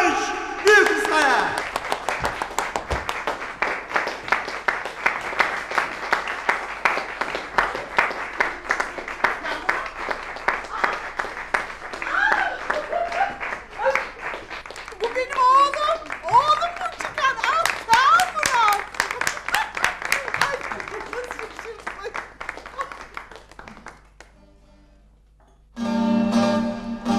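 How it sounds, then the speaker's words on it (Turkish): Audience applause at a live evening entertainment event, dense clapping from a crowd lasting over twenty seconds, with cheering voices mixed in before it fades and a voice takes over. "İyi eğlenceler ve büyük bir alkış."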